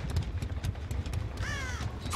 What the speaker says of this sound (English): Get back here, bird!